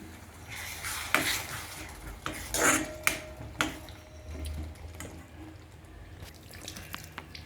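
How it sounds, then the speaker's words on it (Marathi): Leftover dal being cooked into kalna bhaji with salt and crushed peanuts, as water is poured in and stirred, giving splashy sizzling bursts and scraping clatter against the pan, close and without speech. "आता आपल्याला थोडस पाणी घालूया याच्यात"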